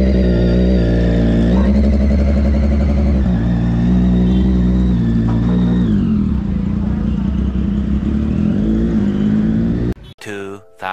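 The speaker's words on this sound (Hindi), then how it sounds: "रेस पकड़ के रखो रेस दे के रखो रेस बंद हो जाएगी" A new superbike's engine is held at high revs with the throttle open, a loud sustained roar with wavering pitch and brief dips, cutting off abruptly near the end as voices take over.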